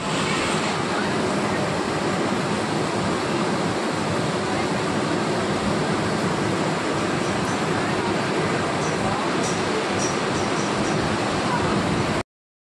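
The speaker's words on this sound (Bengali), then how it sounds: "এরপর ট্রেন চলে এলো" A train rolls into a station, a loud, continuous rumble and roar with rail clatter lasting several seconds, heard from a nearby overbridge, then cutting off abruptly.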